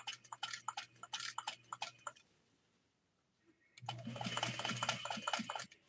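A sewing machine stitches fabric in two bursts of fast mechanical clatter separated by a quiet pause, close and fairly soft.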